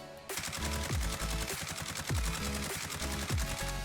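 Automatic fire from an AMAX rifle in the video game Warzone: loud, close, rapid bursts of shots with deep booming thumps repeating roughly every second, continuous throughout.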